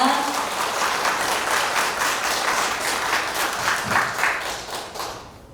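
Crowd clapping at a Korean Liberation Day anniversary ceremony as the next speaker is introduced; a full, continuous round of applause from many people, loud and close, fading slightly at the end.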